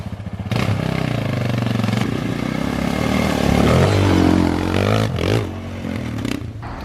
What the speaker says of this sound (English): he's just wearing it in with the quad, trying to get rid of all the leaves